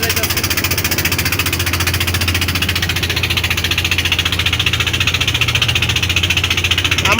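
A hired trawler boat's engine chugging on the Meghna river, a loud, close, rapid steady knocking throb running evenly throughout.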